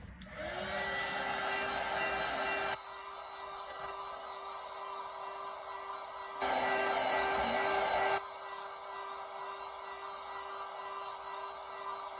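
Heat gun blowing over fresh epoxy on a tumbler, a steady whirring fan-and-air hiss that runs continuously, stepping louder twice as the setting or distance changes, close and with no talk.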